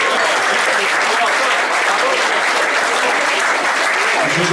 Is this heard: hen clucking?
no